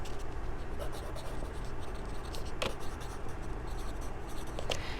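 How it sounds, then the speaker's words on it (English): Someone writes a name by hand on a February calendar sheet during a preschool circle time, the pen scratching steadily with a few sharper strokes, while a voice speaks faintly underneath. "we always write our name on it"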